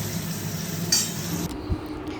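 Spices sizzle in oil left over from frying pointed gourd, a soft steady hiss with a single clink of a utensil against the pan, close and without talk.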